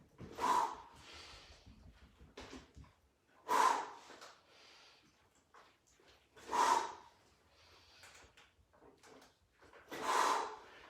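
Four hard, forceful exhales during a full body workout, each a sharp breathy burst spaced about three seconds apart, near and fairly quiet, with softer breathing and faint movement between them.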